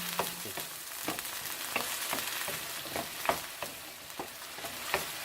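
Yam stir-frying in a pan with corn syrup, a steady sizzle broken by repeated scraping and knocking strokes of the spatula, close and moderately loud, with no voices.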